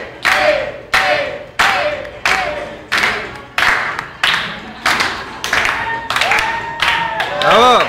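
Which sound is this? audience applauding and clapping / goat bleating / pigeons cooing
audience applauding and clapping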